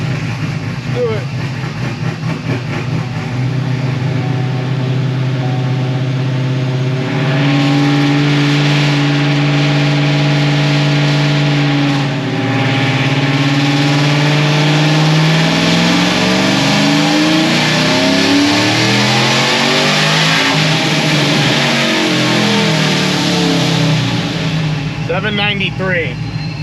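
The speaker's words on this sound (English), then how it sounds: "I just need to rev this thing a little higher." A procharged truck engine revs hard during a dyno pull, loud and close, climbing from a steady drone into a rising, rushing roar that holds for several seconds, eases off, then surges again.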